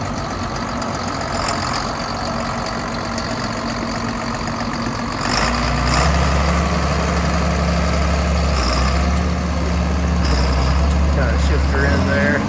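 A 1993 John Deere 7800 tractor's diesel engine runs loud and close, idling and then revving to a deeper, heavier roar that holds steady, while someone talks over it.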